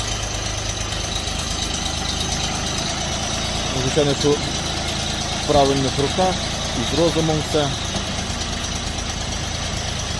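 A three-cylinder Bulat 244L mini tractor engine idles steadily in the background while someone talks over it.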